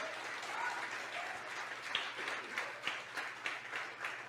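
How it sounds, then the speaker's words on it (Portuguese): A church congregation applauding, a steady wash of many hands clapping at moderate distance, with a few sharper claps standing out toward the end. "Você pode aplaudir o Senhor"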